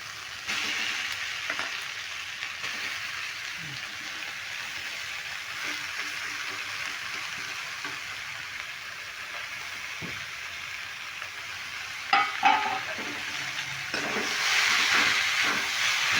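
Chopped red radish frying in a pan with spices gives a steady sizzling hiss, interrupted by a few sharp scrapes and clatters of stirring that swell louder near the end.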